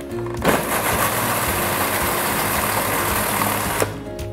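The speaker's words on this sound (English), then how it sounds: "So we've been blending for less than a minute." A blender pureeing roasted peppers for harissa sauce: a loud, steady, close motor whir and grinding churn that holds for about four seconds before cutting off.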